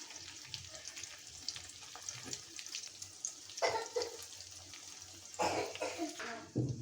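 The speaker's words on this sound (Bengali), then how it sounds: "এখানে তেল দিয়ে দিছি আমি ডিমটা ঢেলে দিব ছড়িয়ে দিলাম" An egg is poured into hot oil in a pan for an egg fry with pumpkin flowers, giving bursts of sizzling over a low, steady crackle at moderate volume, close up.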